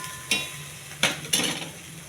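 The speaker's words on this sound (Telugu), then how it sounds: "కొద్దిగా అల్లం వెల్లుల్లి పేస్ట్ అండి, కొంచెం చాలా ఎక్కువ అవసరం లేదు. కొంచెం పచ్చివాసన పోయేంత వరకు ఎగచాలి." Ginger garlic paste being stirred and fried in a pan, with three separate scraping, sizzling strokes of a utensil against the pan over a quiet background.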